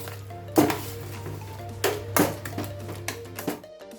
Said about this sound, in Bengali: আমটা আমার সেদ্ধ হয়ে গেছে, হাতা দিয়েই ম্যাশ করে নেব।